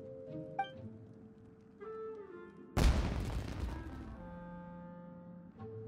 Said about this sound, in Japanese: あそこで何か爆発したぞ。